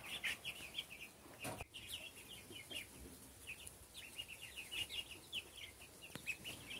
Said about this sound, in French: c'est tous des petits poussins